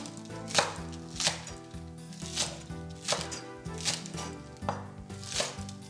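A knife chops green onions on a board in steady, evenly spaced strokes, each one a crisp close tap, with no talking.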